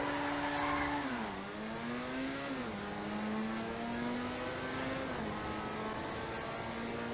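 An engine in a car driven in GTA Online revs up through several gear shifts, its rising tone dropping at each change before climbing again. The sound is steady and fairly close, with no talking.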